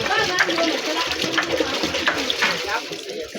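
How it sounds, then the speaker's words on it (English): Running water rinses a freshly cleaned chicken at a cleanup spot of a local African market, a continuous splashing flow with voices and market chatter underneath. "So they're gonna rinse it,"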